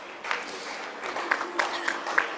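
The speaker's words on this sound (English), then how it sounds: "Please put your hands together and give a round of applause to our speakers." An audience at a business talk applauds the speakers, a short burst of fairly close clapping with a few sharper individual claps standing out toward the end.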